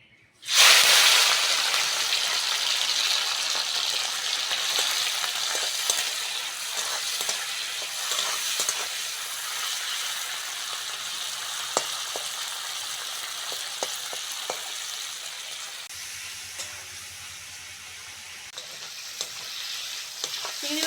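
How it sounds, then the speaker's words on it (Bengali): Prawns sizzle and crackle in hot mustard oil for a country-style prawn curry with taro and potato, a loud steady hiss starting abruptly and continuing throughout, with occasional utensil taps and no talking. "তেল ভালোভাবে গরম হয়ে গেছে চিংড়ি মাছটা দিয়ে দেবো"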